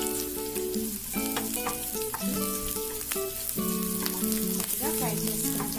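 Chillies and garlic sizzle steadily in hot oil in a pan, a constant close crackle with occasional stirring scrapes.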